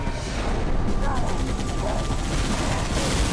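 Heavy turret gunfire from Halo ODST, a dense continuous rattle of rapid shots filling the whole stretch at steady loudness, with a voice faintly present underneath.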